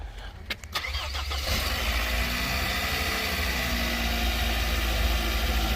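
A Genesis G70 engine cranks briefly after a jump start from a booster box, then catches and settles into a steady, loud idle that runs on to the end.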